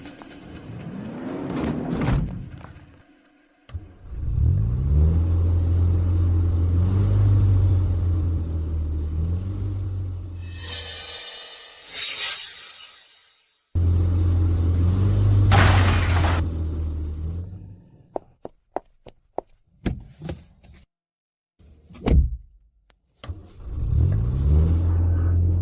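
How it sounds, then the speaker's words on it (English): A car ramming another car out of its way: heavy engine rumble and revving, loud crunching impacts with shattering debris, then sharp scattered clattering hits, close and forceful amid dramatic silences. "Ram that car out of the way now."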